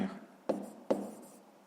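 Hand writing on a board or paper during a fifth-grade math lesson: two sharp taps of the writing tool, each followed by a short scratchy stroke, close and quiet with no talk.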